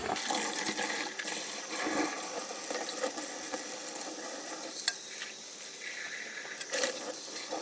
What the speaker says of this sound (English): Going to give it another rinse. And that leftover residue is just pretty much falling right off as the water hits it.